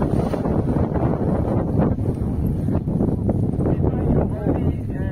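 Strong, steady wind buffets the microphone throughout a paragliding takeoff at a launch site in Quixadá, a continuous roar with gusty swells and no clear break.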